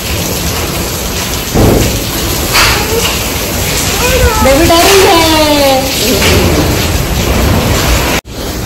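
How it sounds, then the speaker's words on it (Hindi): Hail and rain pour down steadily with a heavy rumble of thunder, loud and close, while people talk and a voice rises in a wavering tone over the storm. "अभी ना बर्फ के बारिश हो रहे।"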